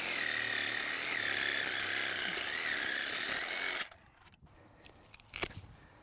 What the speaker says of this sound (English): maybe use the power tool